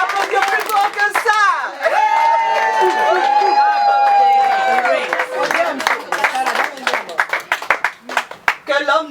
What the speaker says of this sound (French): On va applaudir plus fort que ça.